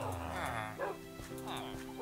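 A dog in Minecraft yips and whimpers in short repeated bursts, fairly close, while someone talks over it throughout.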